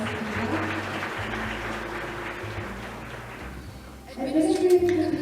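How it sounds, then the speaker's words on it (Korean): An audience at the opening ceremony of a city future forum claps in welcome. Steady, moderately distant applause runs throughout and swells near the end. "환영의 박수 부탁드립니다"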